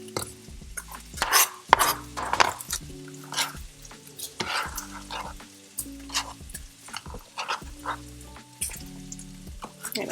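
Cilantro goes into a sizzling pan and is stirred: a steady frying hiss runs under repeated scraping and clinking of a utensil against the pan in an uneven rhythm, close and fairly quiet, with no voices.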